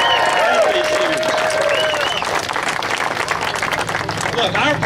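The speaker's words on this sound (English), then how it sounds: "Let's give a great round of applause for both" A campaign rally crowd in Colorado Springs claps and cheers steadily, a dense wash of applause that swells and holds throughout, with voices calling out over it.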